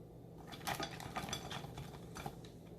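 Crab pieces being mixed with salt and spices in a bowl, a few quick clinks and scrapes of a utensil against the dish with wet stirring, close and brief, no talk.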